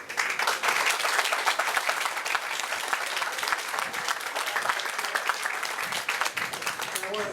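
Indoor audience applauding veterans at a salute event, a dense, steady round of clapping from a crowd that continues throughout at moderate distance.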